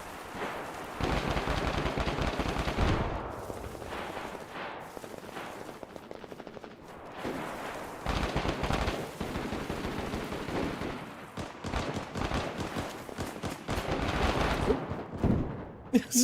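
First-person shooter gunfire in fast automatic bursts, near and loud, with short pauses between and a few dry single shots.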